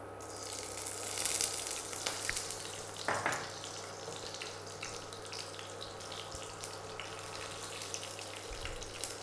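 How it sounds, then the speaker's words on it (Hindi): Mustard seeds and cumin sizzling in hot oil in a kadai, a soft continuous hiss with faint crackles and a few light clinks, steady throughout without talk. "तेल गरम हो गया है तो इसमें सरसों और जीरा को डाल दे रहे हैं।"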